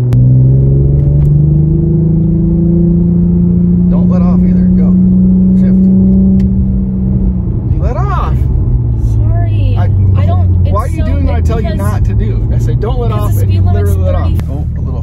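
Infiniti Q50 with paddle shifters accelerating through the gears, a steady loud engine rumble with rising revs, while people talk over it throughout.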